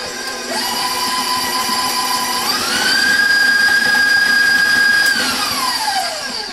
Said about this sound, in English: So I have my cream cheese in there, and I'm going to mix it up by itself for a second.